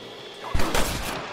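Gunfire in the Red Dead Redemption video game, a western shootout at Pike's Basin: a single loud burst of shots near the middle, ringing out briefly over a steady background bed.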